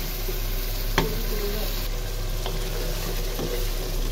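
Meat sautéing and being stirred in a cooking pan gives a steady, close sizzle, with a few sharp clinks of the stirring utensil against the pan.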